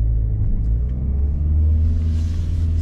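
Manual-transmission car pulling away in a quick start, its engine a steady low rumble close by with a faint rising hiss toward the end, no talk.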